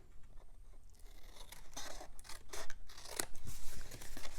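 Scissors cutting into scored paper for a diagonal flip box, a run of crisp snipping and crunchy slicing strokes growing louder, close up with no talking.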